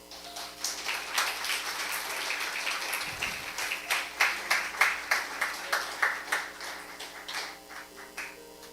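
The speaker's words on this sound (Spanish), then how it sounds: "Denle un aplauso al Señor" Congregation at a Sunday church service claps in a steady rhythmic beat, near and moderately loud, the claps growing more distinct and evenly spaced toward the end.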